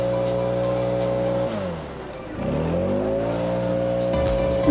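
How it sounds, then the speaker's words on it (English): A handheld leaf blower runs with a steady loud whine, its pitch dipping and then rising again as the blower is moved while clearing small leaves from a lawn corner. "Let me walk over here in the corner and blow some of these small leaves out."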